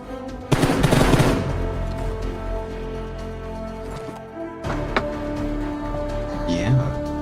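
Suppressed gunfire from a silenced M416 rifle in a PUBG match, heard as sharp bursts of shots among game sounds, with a dense cluster early on and further scattered shots later, plus someone talking over it.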